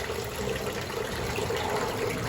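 Water rushes steadily while a backyard pond is being changed, a continuous broad gush with no talking.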